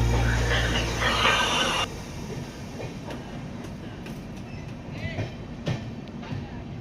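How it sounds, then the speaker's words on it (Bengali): Gaya–Howrah Vande Bharat Express rushing past on the adjacent track, heard from inside a moving train as a loud whoosh and rumble for about two seconds, then fading to steady wheel rumble with intermittent clicks. "two two three zero four Gaya two Howrah Vande Bharat এক্সপ্রেসের সাথে পাশের ট্র্যাক দিয়ে পাস হয়ে যাচ্ছে দেখুন"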